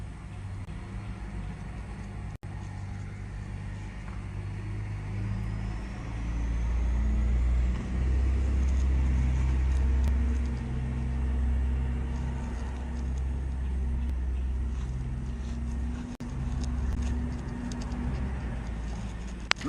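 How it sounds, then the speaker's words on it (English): An armored car's engine drones low and continuously in a village setting, a steady rumble that swells and eases, with birds cooing faintly in the background. "Look at the armored car."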